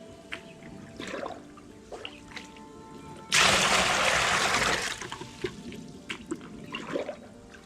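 A bucket of water is poured into a koi pond, a sudden loud rushing splash lasting about a second and a half among faint drips and quiet background sounds.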